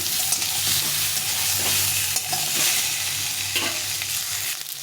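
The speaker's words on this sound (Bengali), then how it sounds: "এখন আমি এই আমগুলো দিয়ে দেবো দিয়ে একটু ভেজে নেবো" Pieces of raw and ripe mango, along with the mango seed, fry in a pan for pickle, giving a loud, continuous sizzle with occasional stirring scrapes throughout.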